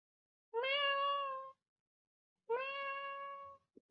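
A cat meowing indoors in a room, two clear, drawn-out meows about a second each, close and fairly loud in a quiet space, followed by two tiny clicks.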